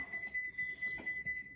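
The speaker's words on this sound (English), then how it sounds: "This timer." A kitchen timer goes off with a steady high-pitched electronic beeping, pulsing in quick repeated bursts at close range.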